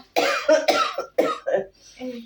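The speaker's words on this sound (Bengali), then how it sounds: "ও মা কাশিটা বেড়েছে আমার" A woman at home has a close, harsh coughing fit: five or six raspy coughs come in quick succession, with short gaps between them.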